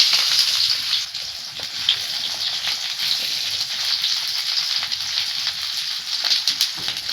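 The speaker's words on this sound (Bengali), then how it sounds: "পেঁয়াজটা আমি একটু লাল লাল করে ভেজে নেব।" Onion frying with whole garam masala and beans in a kadai for chicken soup, giving a steady, close crackling sizzle with bright spitting pops and no talk.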